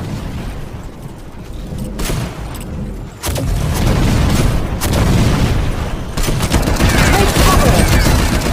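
A grenade blast followed by sustained gunfire in an Android first-person shooter, a loud burst of explosions and rapid shots that swells after a sharp boom partway through, dense and continuous to the end.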